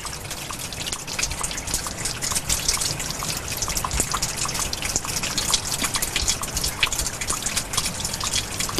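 Water trickles and drips beneath a spot in a forest, a continuous close patter of small splashes and dribbles with no voices.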